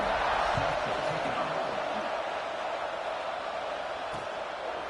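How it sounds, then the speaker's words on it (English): A college football stadium crowd at an LSU game, buzzing after a score, makes a steady, dense roar that fills the air at a distance without distinct cheers. "this crowd is buzzing after that last score"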